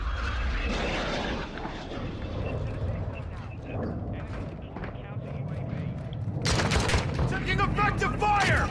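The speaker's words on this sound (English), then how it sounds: "Taking effective fire." Gunfire in a multiplayer shooter video game, with sustained bursts and booms under overlapping voice chat, growing sharper and louder near the end.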